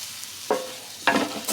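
Sweet white wine hits a hot pan for a round tip roast beef stew, giving two sharp hissing sizzles about half a second apart, each flaring then settling into a steady fry.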